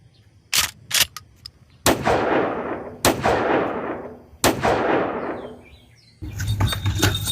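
Pistol gunshots in a Sundanese gangster comedy skit: several sharp, loud cracks, two quick shots then three spaced blasts, each trailing off in a long decaying echo, with faint chirps in the gaps.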